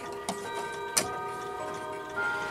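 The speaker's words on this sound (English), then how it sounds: "There goes the Revere clock." A clock chimes close by, with struck musical tones ringing and overlapping as a few sharper strikes sound over the sustained notes.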